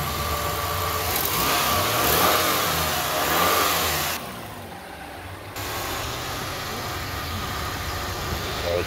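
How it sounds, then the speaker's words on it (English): A Honda Accord 2.3 engine, after a head gasket replacement, running and revving, rising then settling back to a smooth idle with no misfires, with a brief quieter dip midway. "Running smooth with no misfires, no engine shaking."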